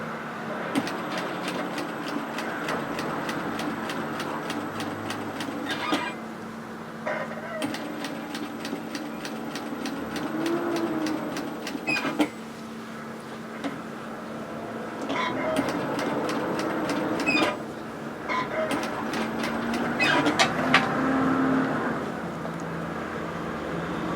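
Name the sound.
sewing machine stitching a hoodie side seam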